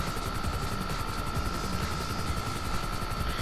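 A police helicopter in Grand Theft Auto V thrums steadily and loudly overhead, its rotor beat continuous and unbroken throughout, with no voices.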